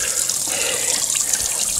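Water and gunk run in a steady gurgling trickle out of the drain plug hole of a neglected boat sitting on a trailer, close and continuous with no voices.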